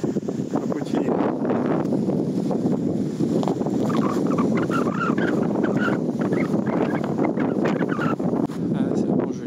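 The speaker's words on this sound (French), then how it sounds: "on sent bien le vent là" Strong mountain wind during a snowstorm roars and buffets steadily and loud throughout, with a person talking under and over it.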